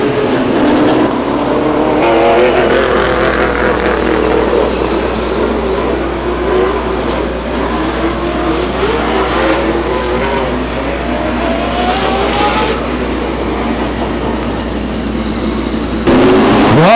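Stock race cars roar around the Stockton 99 Speedway oval, a dense, loud engine drone with rising and falling pitch as cars accelerate and pass, continuous throughout.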